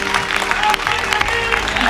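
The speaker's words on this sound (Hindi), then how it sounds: "जोरदार तालियां इनके लिए।" Audience at a spiritual gathering breaking into applause, a rapid burst of clapping with some crowd murmur beneath, steady and fairly close over a faint hum.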